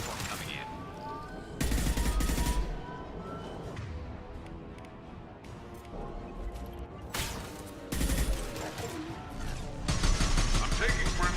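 Bursts of automatic gunfire and heavy weapon blasts from the video game Mass Effect 2, loud sustained volleys recurring every few seconds amid game dialogue and a player talking.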